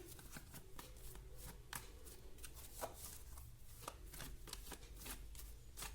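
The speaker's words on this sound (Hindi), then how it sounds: "मेरी कार्ड्स बहुत ज्यादा खराब हो रहे हैं तो मैं बिल्कुल धीरे धीरे उन्हें शफल कर रही हूँ।" Worn tarot cards are shuffled slowly by hand, producing quiet, irregular soft flicks and rustles close by with no voice over them.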